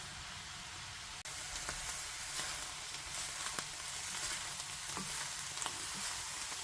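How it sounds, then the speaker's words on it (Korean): Chopped sour kimchi stir-frying in perilla oil with sugar, cooked as a dumpling filling, gives a steady close sizzle and crackle with light stirring scrapes and a brief break early on. "이렇게 김치가 다 볶아졌어요. 들기름에다 설탕을 넣고 신김치를 좀 중화를 시켰답니다."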